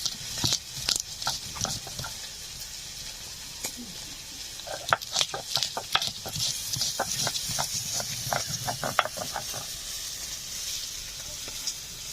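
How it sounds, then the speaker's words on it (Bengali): Boal river fish frying slowly in a pan over medium heat, a steady soft sizzle broken by scattered pops and spatters, with occasional clinks of a utensil; no talking. "মাছগুলো ভাজা হচ্ছে"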